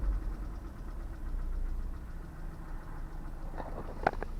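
A petrol Seat Leon engine idles with a low, steady rumble and a light rattle, ending with a few sharper clicks and knocks.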